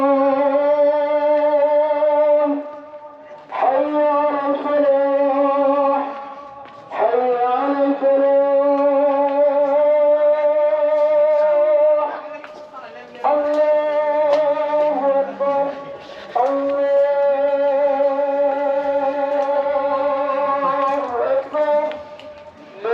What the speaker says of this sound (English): It's the sound of our dawn, the call to prayer.